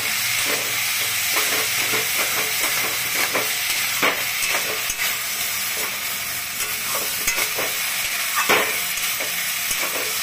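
Snake gourd (chichinga) being stirred as it fries in a pan, a steady loud sizzle and hiss with repeated scraping clicks of the spatula throughout.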